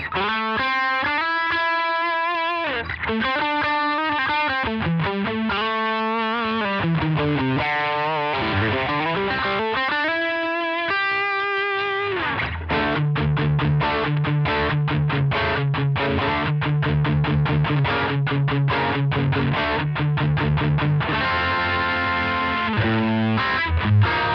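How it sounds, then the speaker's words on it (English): Electric guitar on the treble pickup through an overdrive pedal, gritty sustained bends and melodic phrases giving way to fast chugging riffs, continuous and loud with no talking. "And that, guys, is Overdrive."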